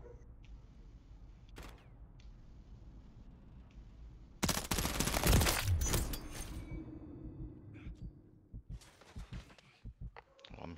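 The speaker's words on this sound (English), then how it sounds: "Well, I'm hearing shots." Gunshots erupt in a Modern Warfare III team deathmatch: a quiet stretch breaks into a sudden loud burst of rapid fire, followed by scattered sharp shots further off.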